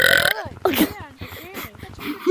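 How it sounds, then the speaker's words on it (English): Burping aimed close at someone's face, loud and near, a short run of croaky belches with children talking and laughing around them. "It's about burping in people's faces."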